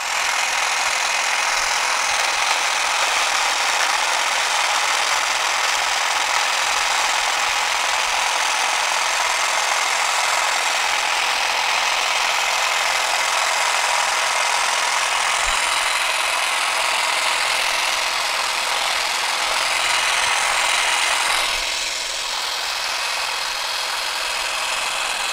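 A hedge trimmer feathers and shapes a garden shrub, its steady buzzing motor running close and loud for the whole stretch, easing slightly near the end.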